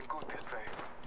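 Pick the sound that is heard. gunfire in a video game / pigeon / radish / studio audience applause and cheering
gunfire in a video game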